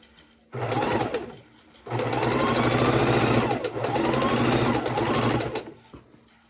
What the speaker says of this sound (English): we're sewing together the half square triangles